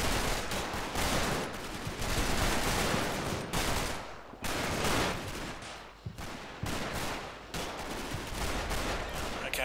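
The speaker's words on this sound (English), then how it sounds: "back there I've got 2 heavy machine gun teams firing on my position" Sustained heavy machine gun fire from the Combat Mission Battle for Normandy game, dense rapid bursts rattling almost continuously with a couple of brief pauses, loud and close.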